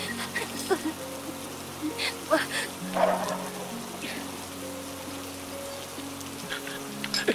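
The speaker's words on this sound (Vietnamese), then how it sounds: "Trời mưa to gió lớn Rồi sấm sét dữ quá" Steady rain falls with some gusty noise, a soft continuous wash of drops under a low background hum, with faint scattered sounds and brief spikes but no clear thunder.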